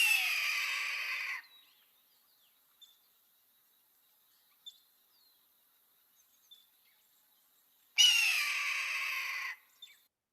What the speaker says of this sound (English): and I'm sure you know red-tailed hawk.